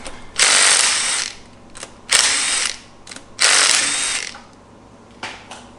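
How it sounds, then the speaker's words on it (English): An LS V8 engine from a 1969 Camaro swap is turned over by hand with a ratchet. It gives four bursts of loud, close clicking: three long ones and one short, with pauses between. "I'm going to turn the motor over, line up our timing marks."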